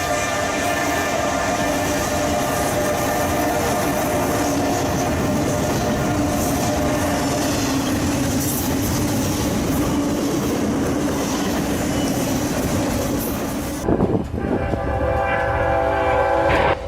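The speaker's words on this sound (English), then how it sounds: "An NS intermodal train thundered through Indiana only seconds away from striking people who ignored repeated horn warnings." Norfolk Southern intermodal freight train thundering past, a loud continuous roar of rolling cars with its horn blaring in sustained blasts, then a sudden shift near the end to clattering wheels and a renewed horn, no voices.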